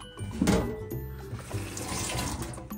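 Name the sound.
washing food under running tap water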